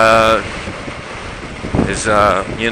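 Steady wind buffeting the microphone while riding a bike, loud and close, with people talking over the rushing noise.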